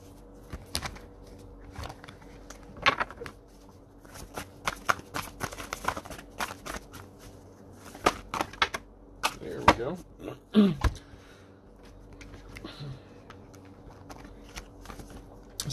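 Tarot cards are shuffled and drawn by hand at close range, giving crisp riffling flutters and sharp snapping slaps in irregular bursts over a quiet background.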